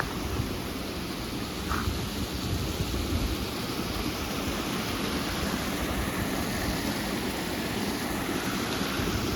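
Rushing water of a rainforest waterfall in Dominica, a constant heavy roar that stays loud and unbroken from start to finish, close by and with no voices over it.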